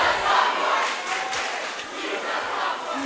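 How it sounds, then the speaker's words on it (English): A basketball arena crowd chants and roars in unison at a sophomore shooting free throws, a loud, continuous massed shout with rhythmic swells throughout. "The crowd reminding us that Wiggin is indeed a sophomore"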